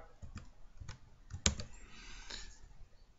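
A handful of quiet keystrokes tapped out on a computer keyboard while entering a word into Excel 2013, sparse and close, with one sharper click standing out midway.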